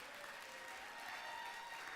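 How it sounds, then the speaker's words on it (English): Audience at a Toastmasters specialist speaker event gives steady, dense applause that carries on evenly and moderately loud for the whole stretch, with no voices standing out. "One more big round of applause"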